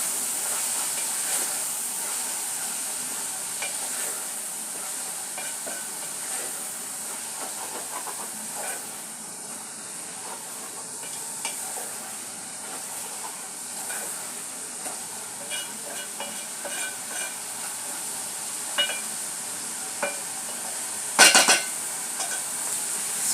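Beef frying in a pan for spaghetti sauce, a long, steady hissing sizzle with scattered small pan clinks and one louder clatter near the end.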